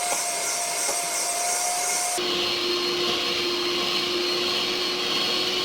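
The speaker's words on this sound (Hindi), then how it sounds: "इसमें कैस्टर शुगर थोड़ी थोड़ी करके इसको बीट करेंगे" An electric beater drones loudly while butter is creamed with caster sugar, a steady motor whine that shifts to a lower pitch partway through, as if the speed setting changes, with no talking.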